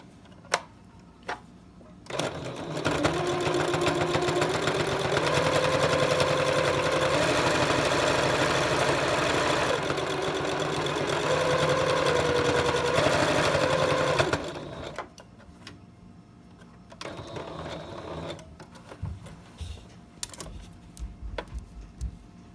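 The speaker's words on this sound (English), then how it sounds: "I'm going to run 2 stitches, one along the very edge and then one just under the piping" Sewing machine stitching a fabric face mask with piping, running steady and loud for about twelve seconds with a brief pause, then stopping; quiet handling noises follow.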